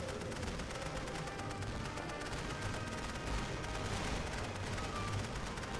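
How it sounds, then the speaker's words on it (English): Machine gun fire in a WWI strategy video game, a faint, continuous crackle of rapid shots blending into a distant battle din with no gaps. "Good thing we've got that machine gun there."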